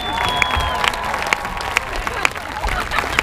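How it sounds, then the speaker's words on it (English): Audience applause and cheering at a 2015 showcase event, a dense crowd of clapping with scattered whistles and sharp accents, steady and fairly loud throughout. "How about another round of applause for Ivion Lewis and Adam Wright, or Luke Sky"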